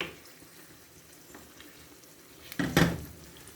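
Aloo and egg curry being stirred in a pan, mostly a quiet low sizzle that ends with a short, louder clatter of the spoon scraping the pan.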